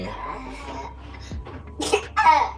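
After a moment of quiet fussing, a baby coughs twice in quick, harsh bursts near the end, close to the microphone.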